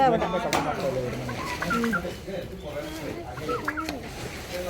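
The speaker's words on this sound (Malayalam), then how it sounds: "നാടൻ കോഴിയാണ് ഇത്" Chickens cluck and squawk close by at an agricultural exhibition fair, a few birds calling in short bursts, with low voices murmuring underneath.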